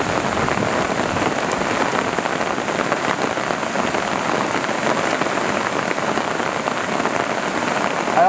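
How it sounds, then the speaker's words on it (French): Heavy mountain rain pours down steadily during a debris flow at Le Claret, a dense, continuous hiss of drops hitting surfaces all around, loud and unbroken throughout. "On est vraiment sur énormément de pluie de tous les côtés"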